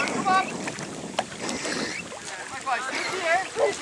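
A rowing boat moves through water in gusty wind, with wind buffeting the microphone and splashing oar strokes, while voices call out over the noise.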